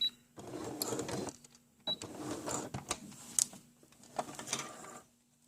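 A sewing machine back stitches a cuff seam on a pair of pants, sounding as quiet, short bursts of mechanical whirring separated by brief pauses.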